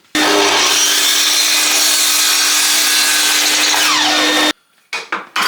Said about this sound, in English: now I am going to cross-cut some of these to 460